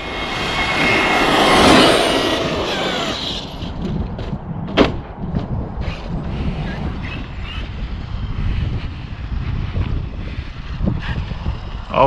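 A Traxxas 8S X-Maxx RC car at full throttle gives off a high, swelling electric motor whine that peaks, then fades into a distant buzzing drone over outdoor ambience, with one sharp knock midway.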